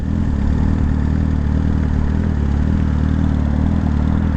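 A motorcycle engine runs steadily at the start of a ride, a loud, close, continuous low rumble and clatter with no change in pitch and no talk.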